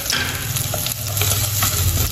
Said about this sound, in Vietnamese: Thì dầu nó tới rồi thì mình cho hành củ vô.